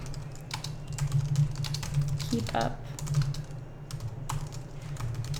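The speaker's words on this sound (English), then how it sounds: "I'm going there and I'm typing a comment." Quick, light clacks of typing on a computer keyboard come in bursts during a painting live stream, over a steady low hum. A voice briefly speaks partway through.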